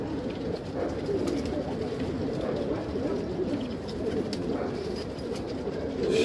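A flock of pigeons, including newly added birds, coos steadily inside a loft, a dense, continuous murmur of low throaty calls at moderate distance with no talking.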